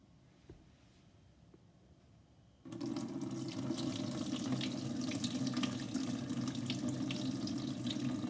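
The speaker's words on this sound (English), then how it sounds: "I'm going to tip that solution straight away, straight out" Hot caustic solution pours out of a tray in a steady, close gush after a quiet start, a continuous watery rush like a running tap that holds to the end.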